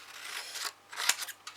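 Scissors snip through paper while cutting out triangle pennants for a garland, a few quick close cuts with one sharp snip standing out, no talking.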